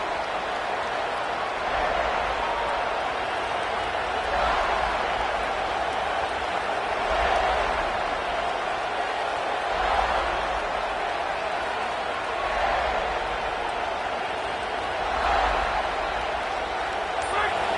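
A large stadium crowd at a college football game in an NCAA video game gives off a steady roar that swells in slow waves, with commentary voices over it.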